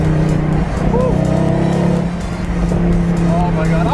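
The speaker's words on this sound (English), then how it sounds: "there's nothing that sounds like a naturally aspirated AMG, especially this Black Series" Mercedes-AMG C63 Black Series with a naturally aspirated V8 accelerates hard, a loud sustained engine roar heard from inside the car, with excited voices talking over it.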